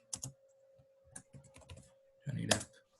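Name being typed on a computer keyboard, a quick run of close key clicks in short bursts, ending in a denser flurry, with a faint steady hum underneath.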